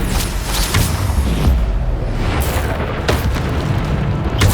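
Loud, dense booming from repeated Bombarda spell blasts in the Hogwarts Legacy video game, heavy low rumbles rolling one into the next with sharper bursts near the middle and end, no talk over them.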